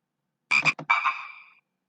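A frog croaks twice in quick succession, a short double call followed by a longer rasping croak, clear and close against silence, as part of a children's reading activity featuring a mother frog.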